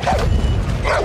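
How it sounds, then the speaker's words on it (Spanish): Dog in Far Cry New Dawn giving two short yipping barks at the start and end of a brief moment, set against a dense game background. "¡Era un perrito!"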